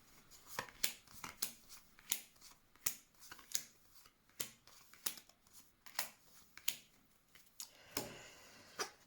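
Tarot cards are shuffled and drawn, giving a quick series of about a dozen sharp, close riffling snaps at an irregular rhythm, ending in a longer rustling shuffle, with no talk.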